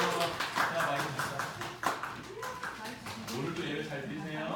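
Congregation clapping during a Sunday church service at Bokmin Church, a steady patter of hand claps mixed with a voice talking over it.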